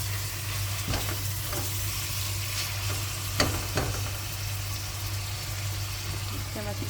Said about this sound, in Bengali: যেটার সাথে আমি গুঁড়া শুটকিগুলো দিয়ে দেবো, একটু ভাজা ভাজা হয়ে যাবে